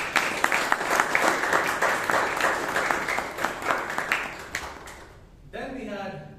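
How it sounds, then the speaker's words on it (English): Audience applause at a Toastmasters club meeting in Bangalore, a dense, steady wash of many hands clapping that holds for about five seconds, then fades and gives way to a brief murmur of voices. "Please give a big round of applause to him."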